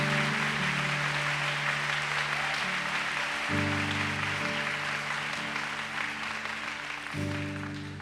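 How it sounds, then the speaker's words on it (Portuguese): A church congregation applauds its pastoral team, with a dense, steady wash of clapping that lasts about eight seconds over sustained music chords and fades slightly toward the end. "Uma salva de palmas para a nossa equipe pastoral."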